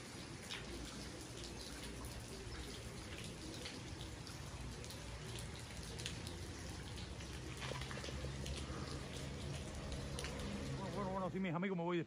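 Steady rain falls on flooded streets in Caibarién, Cuba, a dense continuous wash of drops and water splashing, loud and unbroken for the whole stretch.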